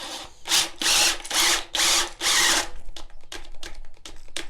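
A power drill with a Bosch Daredevil hole saw whines through four loud bursts of cutting wood, each with a steady tonal hum, then trails off into lighter clicks and rattling.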